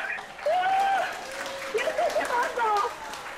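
Audience applause for a woman who has just won an LCD television at a Silesian hit-song show in Pawłowice, steady clapping throughout with voices and whoops rising over it.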